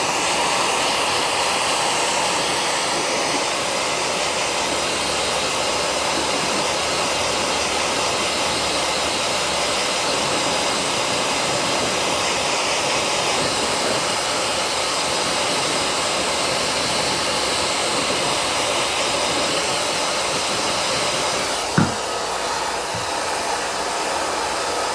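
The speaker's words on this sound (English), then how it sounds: "She's letting me dry her ears. I'm just going to take the time to dry them." A hair dryer blows steadily and loudly on a miniature poodle's ears during grooming. The broad, even rushing air holds without a break for the whole stretch, with only a faint brief knock late on.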